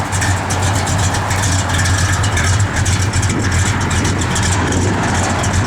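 A 1966 Plymouth Belvedere II V8 idling with a lopey cam, a steady deep rumble with a slight rhythmic lope, close and loud throughout, with no voices.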